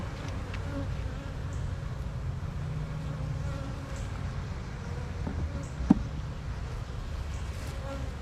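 Honey bees buzz steadily around a hive outdoors, a dense continuous drone close by with no talk.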